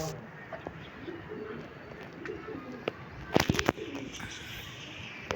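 Soft pigeon coos murmur in the background amid light rustling and a few sharp knocks, fairly close and low in volume.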